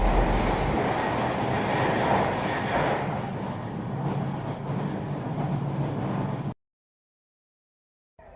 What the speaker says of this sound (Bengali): অনেক অপেক্ষার পর আমরা আমাদের ট্রেনটির দেখা পেলাম